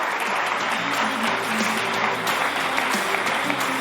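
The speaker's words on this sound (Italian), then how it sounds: "facciamo un bel applauso ai genitori." An audience at an evening gathering applauds the parents, steady dense clapping from many hands that holds for several seconds, with a faint voice underneath.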